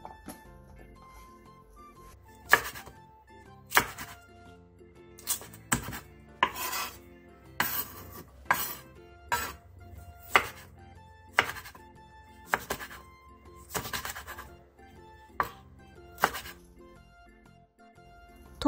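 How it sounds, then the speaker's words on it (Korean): A kitchen knife chops onion, sliced garlic, four cheongyang chilies and two red chilies into bite-size pieces on a board for Korean pickled side dishes, a close, irregular series of sharp knocks with quiet pauses between them. "통마늘 한 줌을 편슬고 청양고추 4개와 홍고추 2개도 한입 크기로 잘라주세요"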